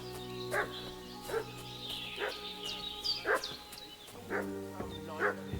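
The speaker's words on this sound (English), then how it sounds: "What's that dog making such a fuss about?" Dog in Kingdom Come Deliverance II barking repeatedly in short, evenly spaced yaps over a steady musical background, moderately near and loud.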